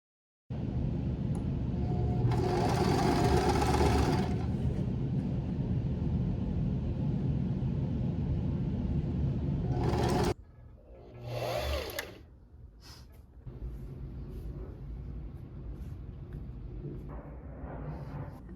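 Sewing machine stitching a small fabric ruffle onto a handmade top, running in a loud steady whir for about ten seconds, then stopping, starting again briefly and idling with lower mechanical hum, close up.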